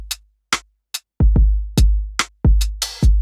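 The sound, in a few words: fairly quantized drum pattern with hi-hats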